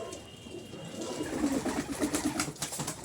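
Wheat-beaked pigeons give a run of throaty, rolling coos close by, steady and rhythmic over a soft background hiss, with no one talking.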